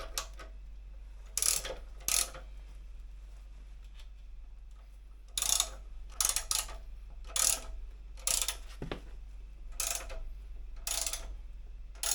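Pancake motorcycle lift jack under an Indian Challenger being cranked up by hand, heard as irregular bursts of close mechanical clicking and ratcheting separated by quiet pauses, over a low background hum.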